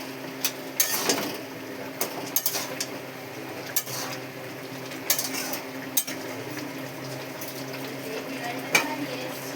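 Pui shak cooked with prawns is stirred in a pan, with steady scraping and clinking of the utensil against the metal and a faint sizzle underneath, continuing for several seconds.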